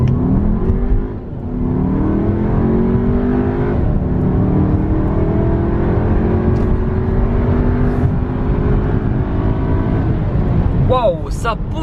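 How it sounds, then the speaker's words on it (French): An Audi Q3 Sportback S line engine revs and accelerates steadily, its pitch climbing in long sweeps, loud and close, with a voice briefly talking near the end. "Les amis, on fait une petite accélération."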